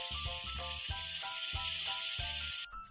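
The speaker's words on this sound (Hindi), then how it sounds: "नहीं नहीं नबीहा, ये तो कुकर की सीटी की आवाज थी" A pressure cooker whistle, a loud continuous steamy hiss that lasts a few seconds over a faint rhythmic background, then cuts off abruptly.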